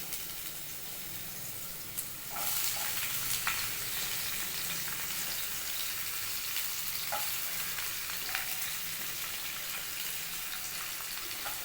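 Sliced onion sizzling in hot oil in a pan, a steady close frying hiss that starts abruptly as the onion goes in and continues evenly with faint stirring clicks.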